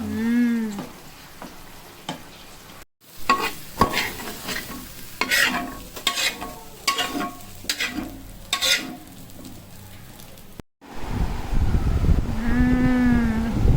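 Chilli chicken and egg kalakki cooking in a pan, loud close sizzling with repeated spatula scrapes and stirring, broken by brief gaps, with short vocal-like tones at the start and end.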